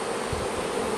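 Italian honey bees swarm around an opened hive, a dense, steady buzzing that fills the whole second at close range with no voices.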